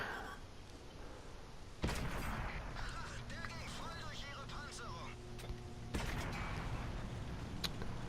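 A Panther tank's main gun fires twice in World of Tanks, each a sharp, booming report with a ringing tail, set against low engine rumble and battlefield ambience.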